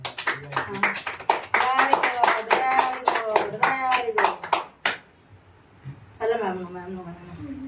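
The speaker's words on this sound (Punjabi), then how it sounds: "ਤਾੜੀਆਂ ਪਾਓ ਤਾੜੀਆਂ ਮਾਰੋ" Family members at a home birthday celebration clap in a quick, lively burst of applause for about five seconds, close by and fairly loud, with a voice and other people talking underneath and afterward.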